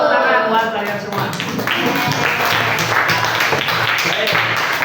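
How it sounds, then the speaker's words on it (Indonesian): Students applaud in a classroom after a group presentation, a dense steady patter of clapping lasting the whole stretch while a teacher's voice carries over it. "Tepuk tangan buat kalian semua."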